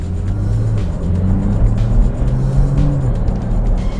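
A Porsche pulls away close by, its engine giving a loud, throaty low drone with rising and falling revs as it accelerates, steady throughout with no voices.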